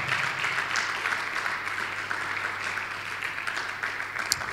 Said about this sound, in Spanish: ¿Te animas a darle un aplauso al Señor?